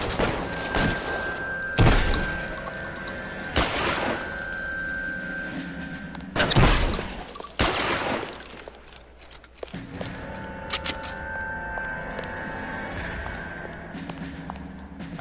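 Rifle shots in L.A. Noire crack out as several sharp, loud bursts spaced a few seconds apart, each with a short echoing tail, over a steady game ambience with music tones.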